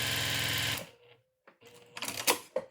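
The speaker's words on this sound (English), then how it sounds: "now I'm going to stitch over the seam allowance with the interfacing" A sewing machine stitches over the seam allowance and interfacing of a pleated face mask, running loud and steady for under a second before stopping, followed by quieter handling noises.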